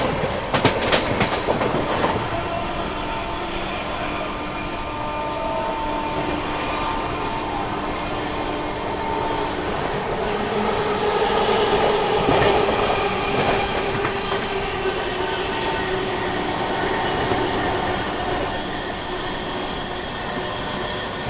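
The Farakka Express overtakes at Khurja Junction, a loud, sustained rail rumble with rhythmic clickety-clack of wheels and some squealing, swelling midway as the train passes close by.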